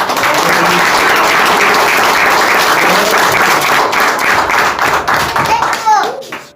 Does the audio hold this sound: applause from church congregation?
yes